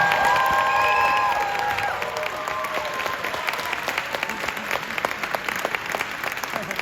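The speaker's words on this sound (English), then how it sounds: "Let's give our students a round of applause." A school holiday concert audience claps for student performers, a loud sustained wash of many hands with scattered cheers and whistles running the whole time.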